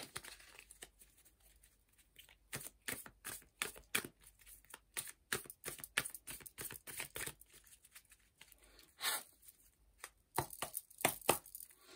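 A deck of cards is shuffled in a series of quick crisp riffling bursts and papery flicks, close and fairly quiet, with short pauses between runs.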